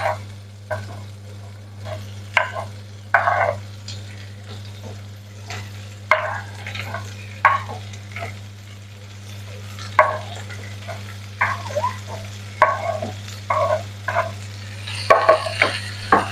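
Chopped beetroot is stirred into garlic and onion frying in oil. Intermittent scraping stirs come in uneven bursts over a low, steady hum and a faint background sizzle.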